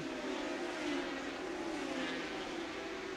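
A field of 1981 superbikes streams past at Donington Park at the end of the first lap, a dense, steady engine roar holding at moderate level throughout with no talk over it.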